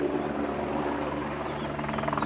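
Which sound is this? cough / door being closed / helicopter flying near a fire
helicopter flying near a fire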